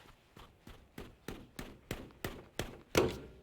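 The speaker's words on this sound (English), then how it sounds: "we're gonna put a little pry bar in between the axle and the transmission, and we're gonna pop it out" A pry bar worked between a Honda CR-V CV axle and its transmission, heard as a steady series of about nine sharp metallic taps at even intervals, the last one louder and ringing.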